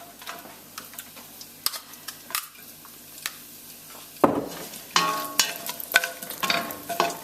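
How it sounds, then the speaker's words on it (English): Stirring in a pan of hot oil for chicken curry: scattered scraping and clicking from the spoon, then a louder burst of sizzling as the contents hit the oil, with crackling frying and utensil taps continuing close by. "Give that a quick stir, maybe 30 seconds."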